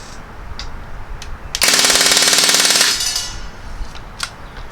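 A Crosman R1 full-auto air rifle lets loose a single rapid burst of about a second and a half, dense, sharp and close, after scattered faint clicks.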